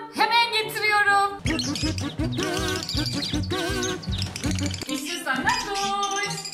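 Bright, warbling bird chirps with a musical backing, the tweets repeating in quick bursts and fairly close, with speech-like tones mixed in.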